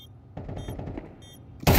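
Gunfire in a Counter-Strike 2 match: a quick cluster of sharp shots and clatter, then a sudden loud burst of fire at the end.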